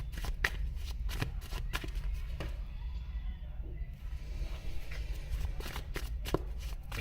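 Tarot cards being shuffled by hand, heard as close, crisp riffling and flicking in quick irregular bursts that pause briefly midway, over a low steady background hum.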